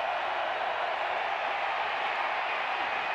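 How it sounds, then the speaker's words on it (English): A dense, steady roar from a football stadium crowd at a Northern Arizona vs Montana college game, sustained and loud without breaks. "We'll let the crowd tell you what happens"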